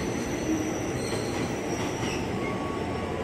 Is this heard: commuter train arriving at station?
yes